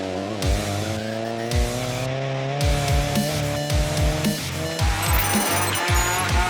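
Newly built Honda Civic rally car on a forest stage at the 2018 Carrick Forest Rally, engine revving hard through repeated gear changes with rising and falling pitch, loud and close.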